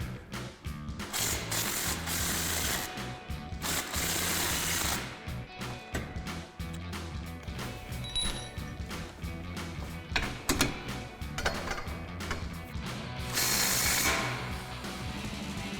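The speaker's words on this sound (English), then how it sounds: "we're gonna grab our 15mm socket and remove these bolts" Ratchet socket wrench with a 15mm socket loosening the rear shock bolts on a 2005-2014 Ford Mustang, rapid repeated clicking in bursts, close and fairly loud, with brief pauses between runs.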